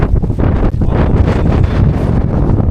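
Strong gusting wind buffets the microphone on an exposed cliff-top on a Tuen Mun hillside in Hong Kong, a loud continuous roar with rushing surges throughout.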